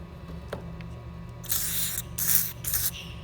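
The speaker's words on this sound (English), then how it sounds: "take a little bit more of this deep creep" Seafoam Deep Creep penetrant is sprayed into a seized Yamaha ET340 snowmobile engine in three short, close hissing bursts, after a few faint clicks and taps from handling the can.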